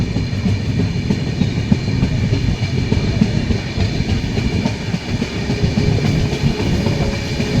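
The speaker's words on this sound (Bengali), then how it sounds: "ছেড়ে দিল ট্রেন" The Himgiri Express passenger train, just pulling out of Jamtara station, rolls along with a loud, close, steady rumble and a rhythmic clickety-clack of wheels on rail joints, heard from inside with no voices.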